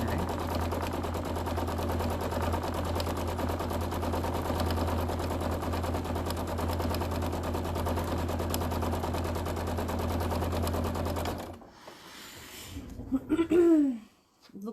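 A sewing machine stitches a quilt in a steady, close, continuous mechanical whir with rapid needle ticking for about eleven seconds, then stops, followed by faint handling noises and a brief squeaky sound.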